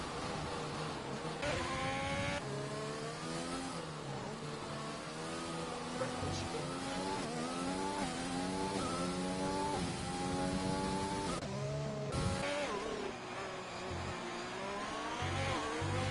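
Race car engines at the Mexican GP in a racing video game scream continuously, rising and falling through gear changes as several cars run close together, loud and steady throughout.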